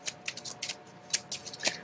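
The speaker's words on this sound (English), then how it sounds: "you shuffle the rest into the deck" A deck of game cards is shuffled by hand in a series of quick, crisp riffling bursts, close and fairly quiet, with no talking over them.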